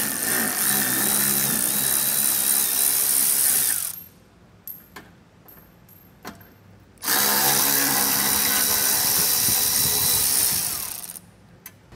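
A power tool with a T40 socket spins out Torx screws holding the chrome exhaust tips on a 2018 Mercedes-Benz GLC, giving two loud buzzing bursts separated by a few seconds of quiet clicks and handling.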